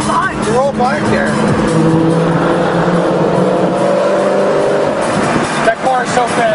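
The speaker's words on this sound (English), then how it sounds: "That car is so fast." Fast sports cars driving along a parkway, loud close engine roar with shifting revs and a brief tire squeal, continuous throughout with people talking over it.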